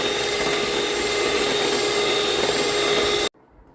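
An electric hand mixer whirs steadily through a custard ice cream mixture, a loud, constant motor drone that cuts off abruptly near the end.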